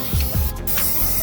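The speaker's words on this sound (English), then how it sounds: "There's our brake clean. We're going to spray all this down." A loud, continuous aerosol spray of brake cleaner hisses close up during an oil change on a 2005 Honda Accord 2.4L, with a brief low thump near the start.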